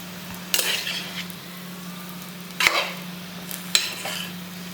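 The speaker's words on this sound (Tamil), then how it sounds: "வச்சிருக்கிற செம்மீன் நல்லா ட்ரை ரோஸ்ட் பண்ணி எடுக்கலாம்" Prawns dry-roast in a pan without oil for a Kerala-style fish aviyal. Three short bursts of scraping stir and crackle stand out against a low, steady hum, with quiet gaps between them.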